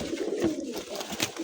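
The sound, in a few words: pigeons cooing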